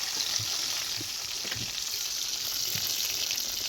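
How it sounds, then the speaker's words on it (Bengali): Chicken drumsticks fry on low flame in a pan, a continuous even sizzle with faint occasional pops and no one speaking. "এদিকে ড্রামস্টিকটাও ফ্রাই হচ্ছে"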